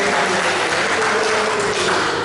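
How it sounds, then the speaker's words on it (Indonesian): An audience bursts into loud, dense applause at a school gathering, continuous clapping from many people filling the room throughout. "Terima kasih tepuk tangan untuk semuanya Bapak Ibu."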